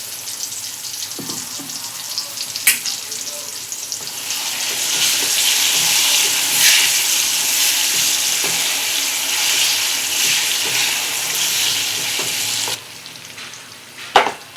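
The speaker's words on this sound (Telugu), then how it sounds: "చింతపండు మగ్గుతుంది కదా," Tamarind simmering in a pan for usirikai pacchadi, an amla pickle: a steady, fairly loud sizzling and bubbling that swells in the middle and drops off near the end, with a few stirring clinks.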